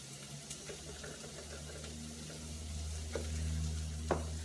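Jalapeños and Brussels sprouts cook in a pan with a soft, steady sizzle and faint stirring clicks, a low hum running underneath throughout.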